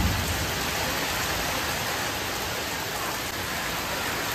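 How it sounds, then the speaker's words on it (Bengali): Heavy rain pours down outdoors as a dense, even wash of hiss that stays loud and unbroken throughout, with no voices over it. "বৃষ্টি আরম্ভ হয়ে গেছে"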